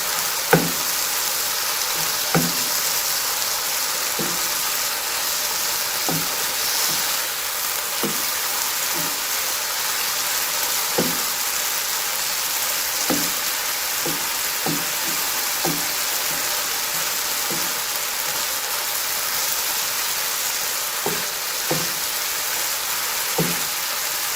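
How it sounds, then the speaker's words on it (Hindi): Spices for beef tawa boti, including turmeric, fry and sizzle in a pan. A steady hiss runs throughout, broken by regular sharp scraping knocks as they are stirred, with no voices. "अब इन मसालों को मैं अच्छे तरीके से मिक्स कर लेती हूँ"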